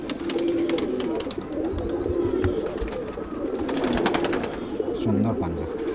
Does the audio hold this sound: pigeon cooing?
yes